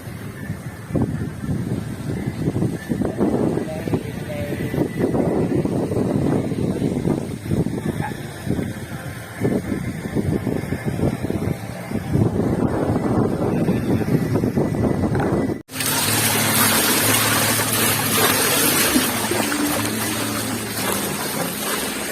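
A breeze gusts across the microphone at a mountain resort, producing a continuous rumbling buffet with fluctuating intensity, then switching abruptly to a steadier, brighter rushing noise.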